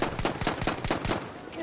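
Rapid automatic gunfire in the Battlefield 1 beta video game, a loud, close, rhythmic burst of shots rattling continuously with barely a pause.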